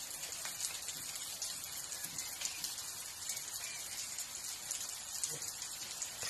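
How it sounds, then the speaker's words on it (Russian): Rain falling outdoors, a steady dense hiss of drops pattering on surfaces, constant and fairly faint throughout with no voices. "На улице опять дождь."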